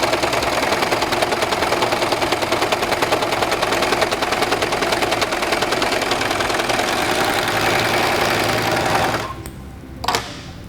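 A Singer 14CG754 three-thread serger overlock machine sews steadily at speed, a loud, close, rapid mechanical chatter running without a break for about nine seconds before stopping, then a brief whir.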